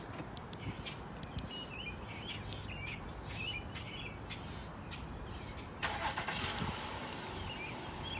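A 2017 Honda Accord EX-L V6 starts up outdoors with a sudden engine catch and settles into a steady idle, while birds chirp in the background beforehand.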